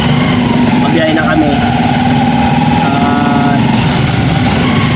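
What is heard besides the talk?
motorized tricycle engine running in traffic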